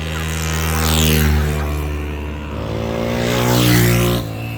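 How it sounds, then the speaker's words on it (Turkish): A loud modified car exhaust drones with a steady low rumble that swells twice, rising and falling as if revving or passing nearby, with no talking over it. "Bunlar da egzoz yaptıracaklarına susturucu taksınlar ya. Of ne biçim ses."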